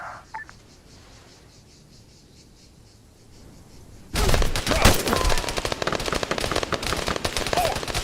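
Rapid machine gun fire erupts loudly at the halfway point of a military video game scene, sustained bursts after a quiet stretch with faint ambient sound.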